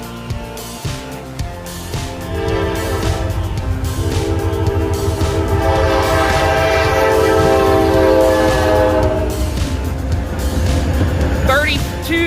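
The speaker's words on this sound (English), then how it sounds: "SD40-2, Indiana, Ohio locomotive at Ohio Central" SD40-2 diesel locomotive of the Indiana & Ohio railway at Ohio Central, passing close by with a rumbling engine and a long, loud blast of its multi-tone horn, while people talk nearby.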